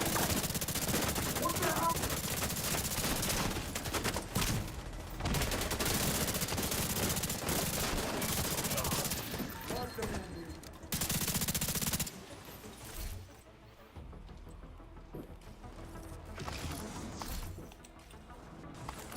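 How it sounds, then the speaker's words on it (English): Rapid automatic gunfire and bursts of shots in The Division 2 shooter game, loud and dense through most of the stretch, thinning out toward the end, with faint voices now and then underneath. "People shooting from the back outside."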